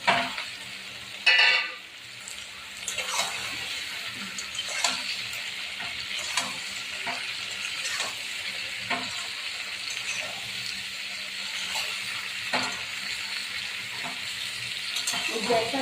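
Ridge gourd sizzles in hot oil in a home kitchen, with a steady frying hiss and repeated scraping stirs of a utensil against the pan, close and clear.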